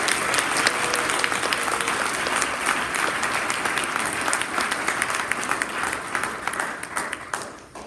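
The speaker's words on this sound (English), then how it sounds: "let's give them a round of applause." A conference audience at a Toastmasters District 36 gathering applauds with dense, steady clapping that holds loud and even for the whole stretch, thinning only slightly toward the end.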